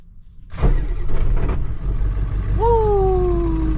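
An old truck's engine cranks and catches, its idle settling into a steady, close rumble while a rising whine sweeps in partway through.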